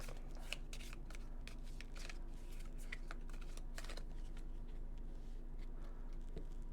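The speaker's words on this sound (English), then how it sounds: "And you just shuffle that up." A deck of monster cards for the tabletop game Welcome Back to the Dungeon is shuffled by hand, giving a steady run of soft riffling clicks and paper flutters that carries on for several seconds at low volume without speech.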